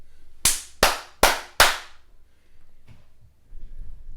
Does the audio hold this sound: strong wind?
no